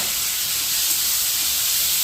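Curry leaves and coriander sizzle in a hot pan of oil, a loud, bright, steady frying hiss that stays constant and close, with no talking.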